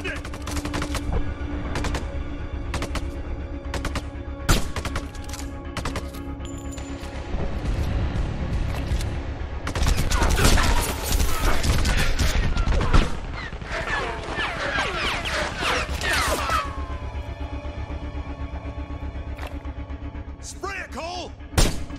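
Sustained battlefield gunfire in the video game Sniper Ghost Warrior 2 cracks through a long stretch, with irregular single shots and clustered volleys. Heavy thuds and a chaotic stretch of rapid fire sit in the middle, and voices talk over the shooting.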